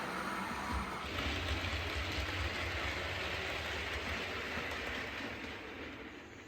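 A model railway train rolls slowly into its station with a steady, soft mechanical rumble and whir that fades a little toward the end, close by and with no one speaking.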